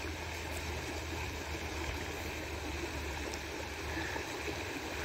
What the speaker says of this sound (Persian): این آب داره از این ور